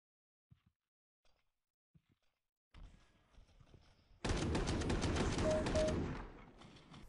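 Slowed-down gunfire from the video game CS:GO: a dense, loud burst of stretched shots with a booming low end, after a few quiet scattered clicks, then tailing off.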